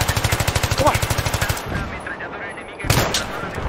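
Rapid automatic gunfire in Battlefield 3 rattles off in a fast, even burst for about a second and a half, then fades into game ambience before a heavy blast near the end.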